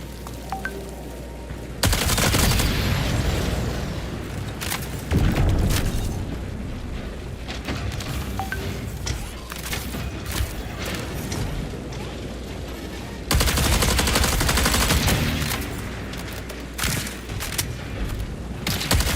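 Sustained automatic gunfire from a weapon in the video game Marathon, loud and dense, with heavy bursts and booming impacts that swell and ease over the stretch, plus a rain-like hiss; no voices.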